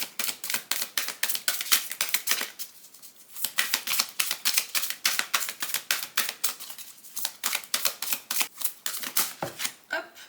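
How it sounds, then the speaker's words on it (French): Cards are shuffled and flicked in quick crisp riffles, a dense run of sharp snapping taps with brief pauses between bursts, close and fairly quiet, no talking. "On va tirer une première carte pour poser un cadre, une situation."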